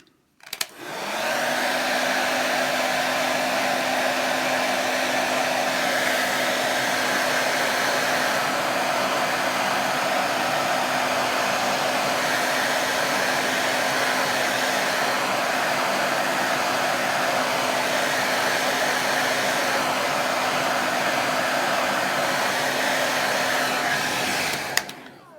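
A hot-air tool roars steadily and loudly for about twenty-five seconds, heating the replacement touch screen digitizer of a Dragon Touch Max 10 tablet to loosen it, with a faint whine running underneath.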